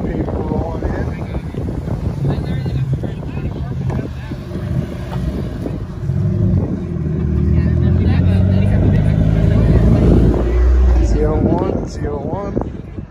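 Cars arriving at an outdoor spring car show, engines rumbling and droning close by as they roll past, mixed with wind buffeting the microphone and people talking throughout.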